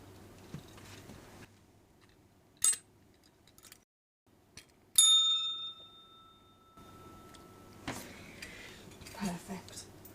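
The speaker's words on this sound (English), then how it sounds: "I'm going to ring the bell, and when the bell goes," A small bell rung once to close a quiet tarot session, giving a bright, sustained ringing tone that fades over a couple of seconds amid soft rustles and faint handling noises.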